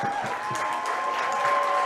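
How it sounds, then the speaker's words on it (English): Fermanagh supporters in the crowd at the Ulster Junior Championship Final applaud, a steady wash of clapping that carries on throughout with a faint tonal hum running underneath. "the applause rather from the big Fermanagh support in the crowd"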